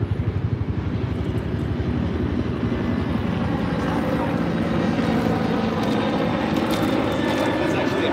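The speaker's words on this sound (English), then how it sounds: "Here comes first heli." A helicopter passes during live bank fishing, its steady rotor and engine drone filling the scene at constant loudness with a rhythmic low chop, while people talk over it.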